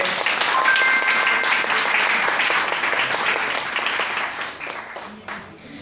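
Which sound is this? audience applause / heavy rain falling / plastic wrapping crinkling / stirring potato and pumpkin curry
audience applause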